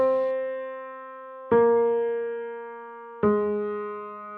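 Three root notes of a 1-7-6 chord progression, each struck cleanly about a second and a half apart and left to ring and fade, a bright harmonic tone played alone.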